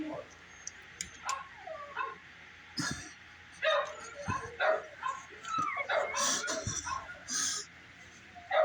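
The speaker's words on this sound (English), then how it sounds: "Dogs, stop barking." Several dogs barking, yipping and whimpering close by in irregular bursts, growing busier and louder toward the end, with a person's voice mixed in among them.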